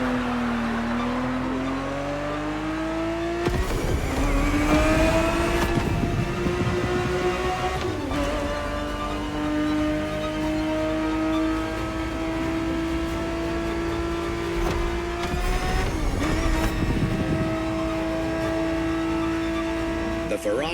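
A Ferrari 365 GTB4 racing in The Crew Motorfest revs hard through several gear changes, its engine pitch climbing then dropping at each shift, loud and sustained, with a voice talking over it.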